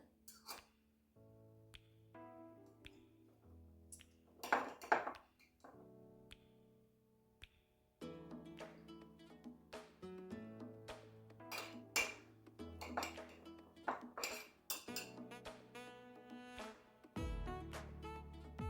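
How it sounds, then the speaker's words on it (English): Pepperoncini peppers being placed on top of a crockpot roast, heard as sparse close clinks, taps and wet handling sounds against a quiet kitchen background with a few short gaps. "Now I'm also going to put some pepperoncinis on top, just for more flavor."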